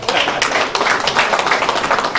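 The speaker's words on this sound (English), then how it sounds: "Let's clap for ourselves." An audience at an ICAN Abuja district meeting in Nigeria claps together in loud, dense, close applause that holds steady for a couple of seconds, with no voices heard over it.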